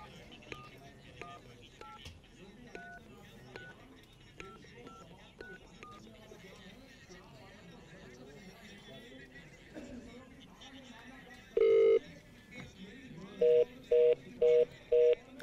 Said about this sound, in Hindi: ये हमने स्पीकर पर फोन लिया और हमने फिर से डायल किया।